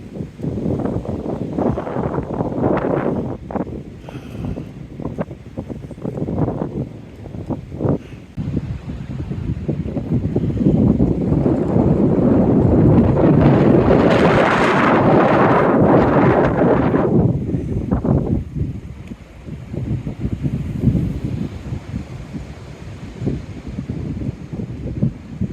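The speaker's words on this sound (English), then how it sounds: "And a thunderstorm is rolling in." Approaching thunderstorm wind roars and buffets the microphone in strong gusts, swelling to a loud sustained rush in the middle before easing off, with no clear thunder standing out and no voices.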